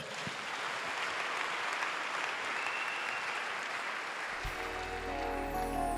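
A church congregation applauds during a sermon, a dense, steady wash of clapping that fills the room, with sustained instrumental tones entering near the end.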